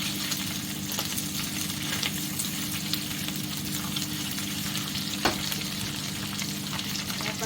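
Garlic and chili sizzle steadily in a hot pan, a continuous close frying crackle with occasional sharp stirring clicks and no talking.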